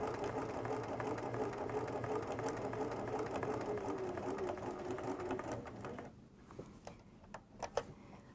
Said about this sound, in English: It's going to sew backwards, and I'm just going to sew to the top of that first bead.